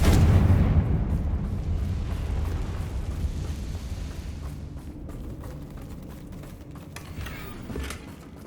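A Confringo blasting spell in Hogwarts Legacy erupts with a heavy low boom at the start, then a long rumbling, crackling decay that slowly fades, no talking over it.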